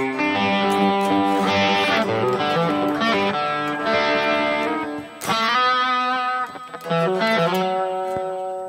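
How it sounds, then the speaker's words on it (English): An electric guitar plays ringing chords and single notes through a Kemper profiling amp set to a light Fender-style crunch, a touch of grit on each strum, no noise gate, with no voices. "I'll do this maybe for these Fenderish light crunch tones."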